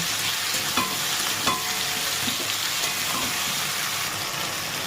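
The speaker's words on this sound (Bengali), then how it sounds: "তেলে একটু ভালো করে ভেজে নেবো প্রথমে একটু আদা দিয়ে দেবো আদাটা সবজির সঙ্গে ভেজে নেব" Ginger and vegetables fry in hot oil for a dish of Malabar spinach with hilsa fish head, giving a steady close sizzle with a few soft spoon stirs and scrapes, and no voices.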